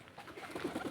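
A pigeon coos briefly nearby, a few soft throaty warbling notes in quick succession.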